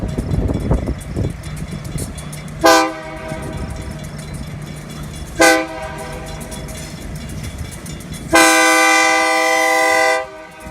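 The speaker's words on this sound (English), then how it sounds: "this shot of the train crossing Burnley Road" A train rumbles past a road crossing with three loud horn blasts, two short and one long, over the steady roll of wheels nearby.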